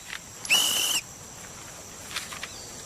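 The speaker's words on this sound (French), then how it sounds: "Et ces sifflets, c'est pour quoi faire?" A single sharp, high whistle blast lasting about half a second, loud and close, followed by a few faint scattered sounds in a quiet room.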